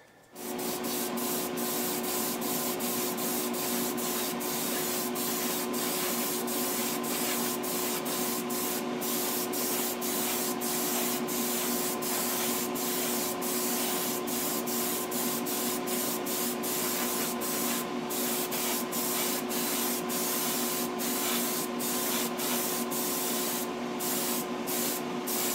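Spray gun laying down a paint fade from dirt track brown to black along a vehicle body line, a steady continuous hiss with a compressor hum underneath, close and unbroken throughout.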